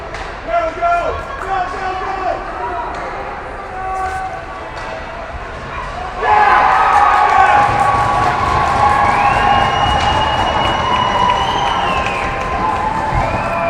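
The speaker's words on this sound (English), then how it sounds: "The cheering you might hear is from the game behind us" A crowd at a nearby ACC Showcase hockey game cheers after the Virginia Cavaliers tie the score. The roar swells suddenly midway and stays as a sustained distant wash under a commentator's steady talk.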